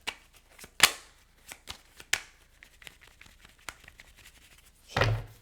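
Tarot cards are shuffled in a series of soft riffling flicks and light taps, irregular and close by, ending in a louder burst of card handling, faint against a quiet room.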